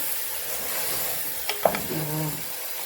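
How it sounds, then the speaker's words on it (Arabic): Onion frying in a pan for a Moroccan rfissa with harcha: a steady, soft sizzle and hiss with a brief clink of a utensil midway and no talk. "غنشحرو البصله ديالنا شويه"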